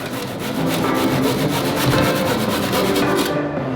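Rapid back-and-forth sawing or grinding as excess lengths of reinforcement bar are cut off, a loud close continuous gritty rasp with a fast regular pulse that stops abruptly at the end.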